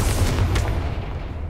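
A Confringo spell blast in Hogwarts Legacy, a single short booming explosion with a rumbling tail that fades over about a second.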